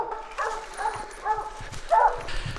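Young hunting dogs bark repeatedly at a treed bear, the barks coming in irregular bursts at moderate distance with some rustling between them.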